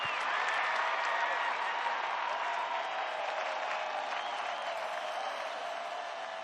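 A stadium crowd at an AFLW women's Australian football match roars and cheers in a dense, sustained wash of noise that slowly eases, with no clear voices standing out.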